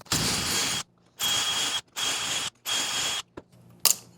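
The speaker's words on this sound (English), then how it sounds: "Go to the inside corner, drill our holes." A power drill drills holes in wood through a dowelling jig in four bursts of about a second each, whining as it bites, separated by short pauses, close by with no talk.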